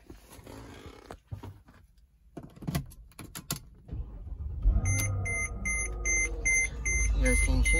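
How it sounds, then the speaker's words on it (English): A 2008 Mercedes-Benz GL 450 engine cranks and settles into a steady low idle, joined by a series of dashboard chime tones; a person talks in the moments before it starts. "I'm gonna go ahead and start the vehicle for you."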